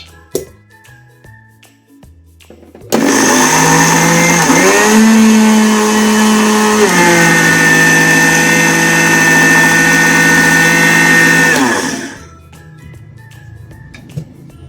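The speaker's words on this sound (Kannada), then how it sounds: "ಈಗ ಇದನ್ನು ಗ್ರೈಂಡ್ ಮಾಡ್ಕೊಂಬರೋಣ" A kitchen mixer grinder runs loud and steady for about nine seconds, grinding rice flour and roasted gram for chakli dough, its motor pitch shifting slightly partway through before it spins down and stops.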